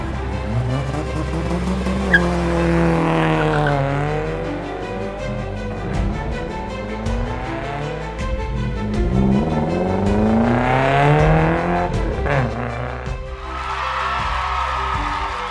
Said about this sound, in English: Only 2 cars are competing in the final race: the red car and the blue car.